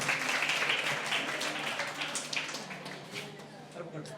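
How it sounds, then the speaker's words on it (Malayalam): A room of B.Ed. college students claps together, a lively burst of applause that starts strong and gradually tapers off, with some voices mixed underneath. "നല്ലൊരു ക്ലാപ്പ് കൊടുക്കാം."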